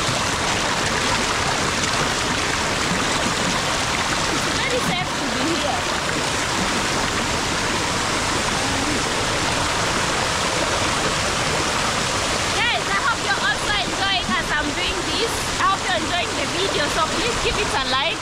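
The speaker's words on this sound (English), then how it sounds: "So this place is called Ivete Waterfall." Ivete Waterfall in Embu County, Kenya, a steady, full rush of falling and splashing water, loud and continuous from nearby, with voices faintly mixed in.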